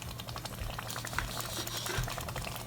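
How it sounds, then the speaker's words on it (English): A pot of jollof rice bubbling at a steady boil, with dense crackling and popping, close and fairly quiet, with no voices. "Now it's really boiling up."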